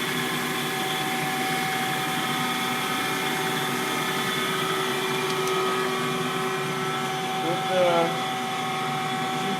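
A Schaudt 14-by-46-inch cylindrical grinder runs on fine feed, giving a steady, even mechanical hum with sustained tonal whine and no pauses, fairly quiet and continuous throughout.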